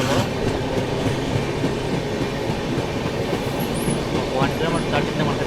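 Samata SF Express runs steadily along the tracks after leaving Parvatipuram, heard from inside the train as a continuous loud rumble with rhythmic clickety-clack of the wheels and occasional faint squeals.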